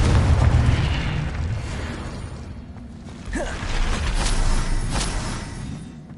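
A spell explosion in the Hogwarts Legacy video game, a heavy booming burst that rumbles and decays, followed by a second crackling blast with rattling debris.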